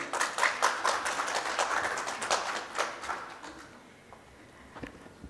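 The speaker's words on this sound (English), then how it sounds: "So a round of applause for my friend" Brief round of applause from a seated workplace diversity panel audience, a few seconds of quick scattered clapping that thins and fades out, fairly quiet and close.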